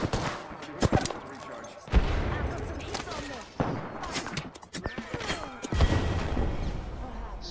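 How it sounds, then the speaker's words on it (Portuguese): Rapid bursts of Apex Legends battle royale gunfire crackle over a busy, loud background, with sharp shots clustered in quick volleys and a voice talking underneath. "eu tô tomando tiro de novo"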